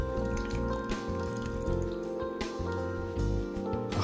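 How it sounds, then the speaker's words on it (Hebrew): Tomato paste and canned crushed tomatoes pour into a cooking pot, making wet, dripping plops and squishy splashes in irregular bursts, with a steady tonal background underneath. "תוסיפו 100 גרם רסק עגבניות מרוכז ופחית עגבניות מרוסקות לתוך הסיר"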